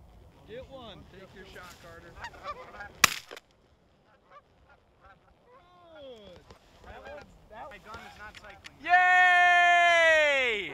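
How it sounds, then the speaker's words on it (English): A flock of geese honks during a snowy goose hunt, with repeated short calls scattered throughout, partly under voices, then a loud sustained honking near the end. "We just missed a flock of geese on the left side."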